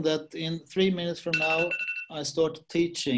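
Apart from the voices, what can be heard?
alarm ringing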